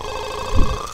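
A telephone rings in The Sims video game, one loud electronic ring tone with a thumping burst in the middle, heard alone without talk.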